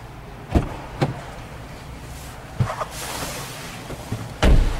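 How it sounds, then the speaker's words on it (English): A few solid thumps of a 2013 Ford Escape door shutting, spaced over several seconds, with a rustling whoosh between them in a quiet interior. "I'm gonna close this door and come around"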